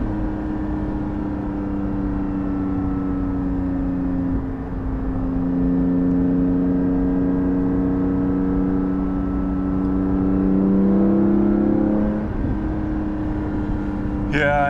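Interior engine and Soul exhaust note of a Porsche 718 GT4 on a quick drive. The steady drone rises and falls through the revs, with a sharper climb late on, and a voice speaks over it at times.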